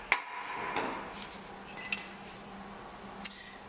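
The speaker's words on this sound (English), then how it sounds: "I'm going to put the tip of that right on my dot and just give it one good whack." A single sharp metallic whack as a drilling hammer strikes a center punch set on a metal workpiece, a brief clink followed by a few faint taps in a quiet workshop.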